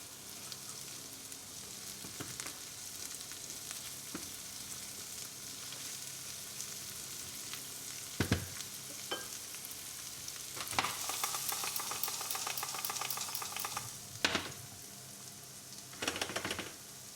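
Peas sauté in a pan with a continuous bright sizzle and crackle, now and then broken by sharp utensil clacks and stirring scrapes, and there is no voice.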